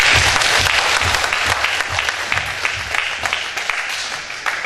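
A church congregation at a pastors' couples healing revival service gives a loud round of applause in praise, many hands clapping in a dense, sustained burst that eases slightly near the end.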